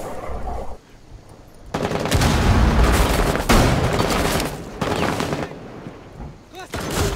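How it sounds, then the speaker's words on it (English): Explosive blasts from a cluster charge breaching barbed wire in Rainbow Six Siege, Terrorist Hunt on Hereford Base: a run of loud, close booms and gunfire-like bursts lasting several seconds, with brief pauses between volleys. "I just destroyed like a million barbed wire through that cluster charge"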